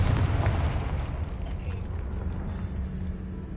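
A Confringo fire spell erupts in Hogwarts Legacy, a loud, rumbling blast that holds a dense low roar and slowly fades over a few seconds.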